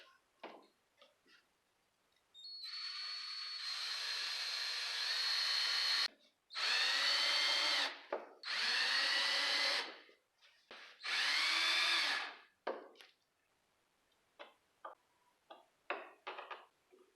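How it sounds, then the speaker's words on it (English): A cordless drill runs screws into the plastic speaker housing of a 2020 Yamaha Wolverine X4 in bursts: one long run followed by three shorter ones, with clicks and small handling noises between them in a quiet space. "I'm going to run these in with a drill"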